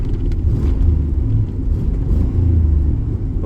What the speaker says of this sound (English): I'm just out for a drive in the truck